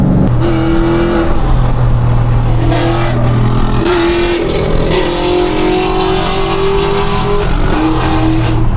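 A Hellcat car engine revs loudly from inside the vehicle, rising and falling through gear changes with a constant roaring drone.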